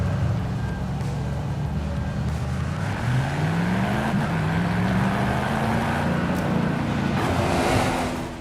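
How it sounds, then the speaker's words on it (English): A race car with a sequential gearbox roars continuously in Forza Horizon 5, the engine note climbing and shifting in pitch as it accelerates, loud and close with a rushing wind-like wash over it. "So it sounds like he has a sequential gearbox in the car."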